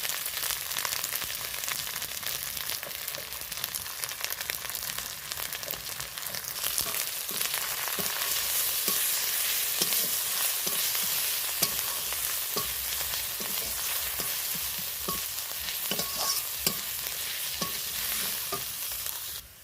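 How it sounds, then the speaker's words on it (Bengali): Spices with ginger and garlic sauté in a little oil, sizzling continuously while a spatula scrapes and stirs the pan in frequent, irregular strokes; nobody speaks. "বন্ধুরা আদা রসুন দিয়ে দিলাম এক চামচ মতো মশলাগুলো আমি ভালো করে কষিয়ে নেবো"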